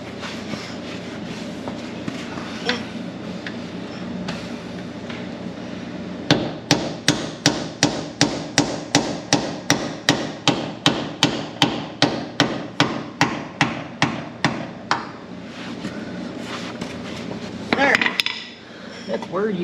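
A hammer pounds on a Jeep JK Dana 44 axle shaft in a repeated run of sharp metallic blows, about two per second, close and loud, after a quieter stretch of shop noise.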